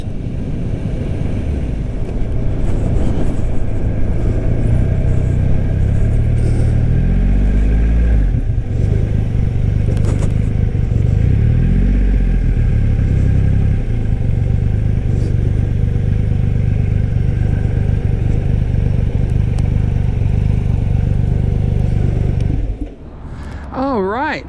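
A powerful 2022 Triumph Rocket 3R motorcycle engine roars steadily at speed with wind rush, pitch rising and falling through gear changes, then cuts out near the end.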